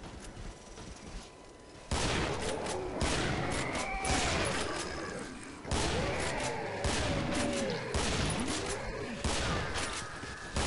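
Pistol gunfire from the shooter video game Killing Floor sounds in sharp bursts among game effects and shifting background noise, moderately loud.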